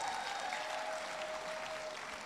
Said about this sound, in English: African parents, let's clap for them.